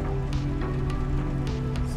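Steady rain patters across the Glen Sheil map in the Assetto Corsa racing game, a soft, even hiss with scattered drops over a low, constant engine hum.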